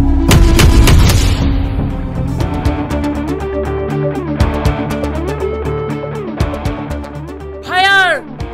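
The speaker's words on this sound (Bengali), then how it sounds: "এই পুলিশ এসে কে গুলি মেরেছে" Police open fire on a protest in a Bangla drama scene: a loud burst of gunfire at the start, then dramatic music with repeated sharp hits and a whooshing effect near the end.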